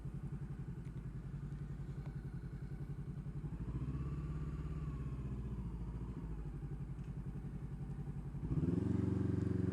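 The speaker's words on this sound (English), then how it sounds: "It's a diesel ferry. It's a normal ferry." Steady low diesel engine drone of a normal ferry crossing in Devon or Cornwall, a continuous throbbing rumble throughout with a louder, heavier surge near the end; no speech.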